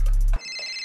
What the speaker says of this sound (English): Let me answer the phone call.